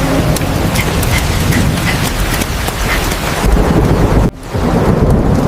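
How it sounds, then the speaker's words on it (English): Steady rain hisses over a dense, rumbling storm backdrop, loud and continuous with a brief drop near the end. "It is raining."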